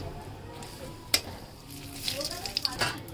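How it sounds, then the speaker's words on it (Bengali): A bay leaf fries in hot oil as the tempering for a homemade mutton-fat ghugni, giving a steady close sizzle that grows busier, with sharp crackles and pops toward the end. "তেলের মধ্যে তেজপাতাটি ভালো করে পুড়িয়ে নেব।"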